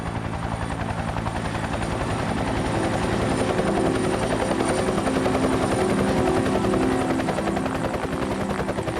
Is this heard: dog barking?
no